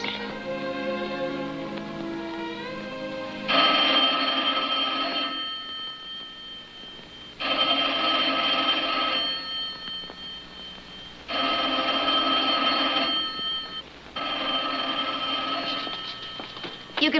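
An old 1950s telephone bell rings in four long bursts separated by short pauses, clear and fairly close, after a brief musical passage at the start.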